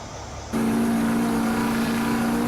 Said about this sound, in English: Damn, this truck's just loud.